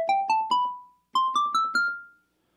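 An FM synthesizer voice built on a square wave plays two runs of four notes, each starting with a sharp attack and tapering quickly. The phrases step upward in pitch, with a short silence between them.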